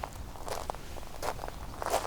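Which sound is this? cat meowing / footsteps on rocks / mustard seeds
footsteps on rocks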